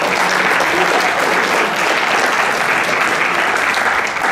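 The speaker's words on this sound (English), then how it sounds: "Let's give another round of applause." A closing-ceremony audience at a hackathon gives a loud, continuous round of applause, dense and even throughout with no break.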